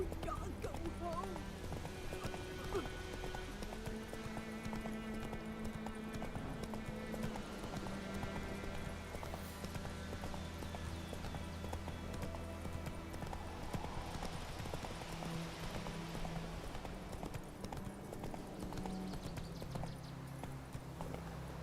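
Geralt's horse Roach gallops in The Witcher 3, hooves pounding in a fast, steady clip-clop throughout, with someone talking over the running hoofbeats and faint game music underneath.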